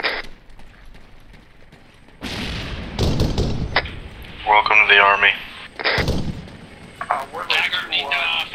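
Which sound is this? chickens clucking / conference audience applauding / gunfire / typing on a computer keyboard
gunfire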